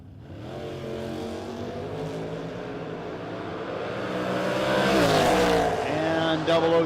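A 1964 Chevelle drag car at a no-box 660 shootout roars down the strip, its engine note climbing through rising revs and gear changes, loud and growing closer, with an announcer's voice over the PA.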